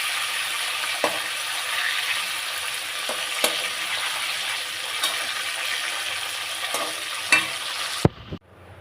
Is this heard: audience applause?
no